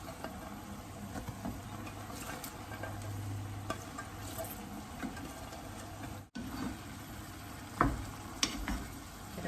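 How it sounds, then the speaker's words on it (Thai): Pork and broccoli stir-fry in a pan with sweet soy sauce over fairly high heat, a quiet continuous sizzle with scraping and stirring noises and a few sharper clicks near the end. "ก็ผัดให้เข้ากันนะเพื่อนจนผักสุกเนาะ"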